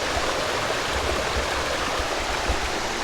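The Tar River at Battle Park, North Carolina, rushes in a loud, steady broadband roar of flowing water, close by and continuous with no talking.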